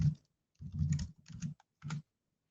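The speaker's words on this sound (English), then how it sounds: "we're going to type in the password" Password typed on a computer keyboard while signing in, several short bursts of close key presses separated by brief silent pauses.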